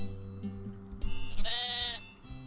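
A sheep in the video game Moirai bleats after being poked, one drawn-out nasal bleat rising over a steady low ambient hum, near and moderately loud.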